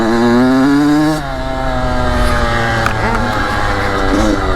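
A KX85 dirt bike engine drones loud and close on New York mountain trails, its buzzing pitch sliding as the throttle eases and picks back up, running continuously throughout.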